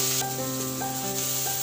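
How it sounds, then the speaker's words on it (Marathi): Ginger and tomato pieces dry-roast in a pan with garlic cloves, giving a steady close sizzle with faint scraping from stirring throughout. "हे सगळं मी व्यवस्थित भाजून घेते।"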